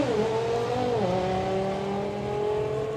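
An Audi RS3 on a drag strip at an evening drag racing event, its engine roaring steadily and loud with a falling then holding pitch across the run.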